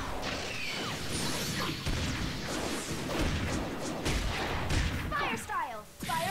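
Fire Style Firebomb jutsu from Naruto Ultimate Ninja Storm 4 erupts in a dense, continuous roar of crackling blasts and whooshing bursts lasting several seconds, with layered impacts throughout.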